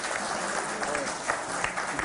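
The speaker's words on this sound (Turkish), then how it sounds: "Alkışlarla alalım delikanlıyı buraya." An audience applauding to welcome a young man at an association gathering, a steady wash of clapping from many hands, with a voice speaking over it.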